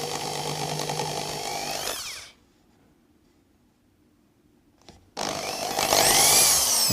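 Power drill driving screws into wooden box pieces on a saw table, loud steady whirring bursts before and after a quiet gap with a brief click.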